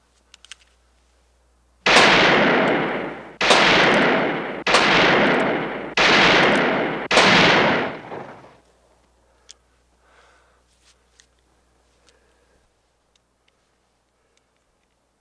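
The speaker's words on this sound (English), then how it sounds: "That's good shooting, Gillom." Five loud rifle shots from shooting practice ring out at roughly 1.3-second intervals, each with a sharp crack and a decaying outdoor echo, followed by near silence.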